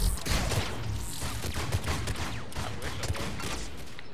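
Dense, continuous gunfire from enemy Geth Primes in Mass Effect multiplayer, rapid overlapping bursts filling the scene at close range with no pauses.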